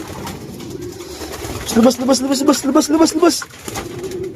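Pigeons cooing in a rhythmic run of low, repeated calls from a flock being rounded up as the sky clouds over, with someone talking before and after.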